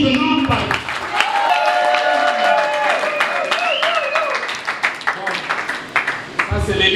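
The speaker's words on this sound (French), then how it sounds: "l'événement de ces jours mérite d'être applaudi vivement" An audience at a reception for a presidential delegation by the bishops of the DR Congo breaks into applause. The clapping is mixed with voices and sung or called tones, with sharp individual claps growing clearer toward the end.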